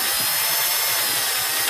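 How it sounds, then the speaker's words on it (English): A power drill bores into an ES 335 guitar body with a loud, steady high-pitched whine and grinding hiss that runs unbroken before cutting off abruptly at the end. "I'm just letting the weight of the drill do the work for me."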